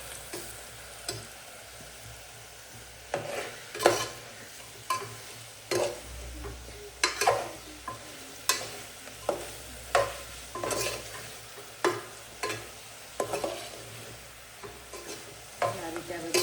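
Spiced potato chips for a fasting-day snack are stirred in hot oil, with a spoon scraping in a steady rhythm of repeated strokes over a constant soft sizzle.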